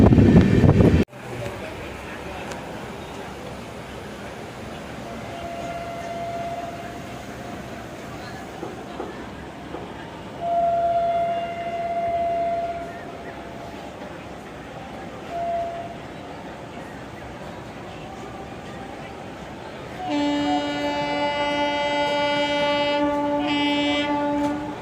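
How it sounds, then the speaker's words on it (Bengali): A passenger train pulls away from a short stop, its low rumble and rolling wagon noise building steadily, with a long horn sounding near the end while people talk faintly in the carriage. "এখন আবার ট্রেনটা ছাড়লো"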